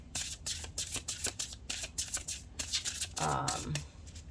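Oracle of the Seven oracle cards are shuffled by hand, with rapid papery riffles and flicks close by, some brief pauses between bursts, followed by a short soft sliding at the end.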